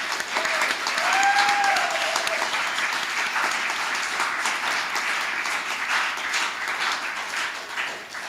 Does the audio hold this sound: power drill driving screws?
no